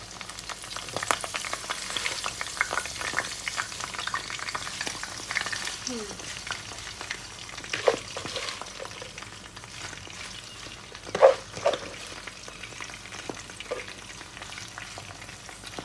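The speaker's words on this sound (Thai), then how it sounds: "ตักไข่ใส่นะคะทุกคน แล้วคุณก็จะใส่ ผักลงไปนะคะ" Eggs and spinach frying in plenty of oil in a pan, a steady close sizzle broken by scraping stirs and a few sharper clinks of the utensil, with no talking.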